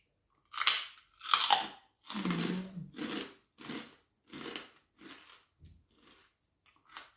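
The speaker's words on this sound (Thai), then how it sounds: "แคบหมูกรอบมาก" Crispy pork rinds being chewed close up, about ten loud crunchy bites in a slowing rhythm, with quiet gaps between them and no talking.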